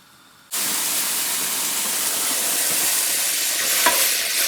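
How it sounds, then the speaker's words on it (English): Mushrooms cook down in a pan: after a short quiet moment, a loud, close, constant sizzle and hiss of steam begins and holds steady, with no talking. "I'm going to cook down my mushrooms until they release their juices"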